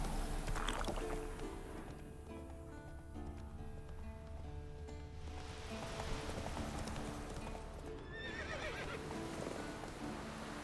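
Roach, the horse in The Witcher 3 video game, gallops with quick clip-clop hoofbeats and a whinny, set against a constant ambient wash, moderately close, with no voices.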